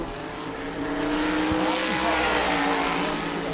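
A Tour-type modified race car runs a qualifying lap at New Smyrna Speedway, its engine a loud, continuous roar that swells slightly as it goes on.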